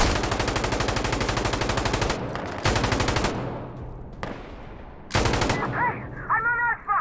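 Rapid automatic gunfire from an M16A4 and other weapons in the shooter game Insurgency: Sandstorm, loud sustained bursts stopping and restarting several times, with a voice heard briefly near the end.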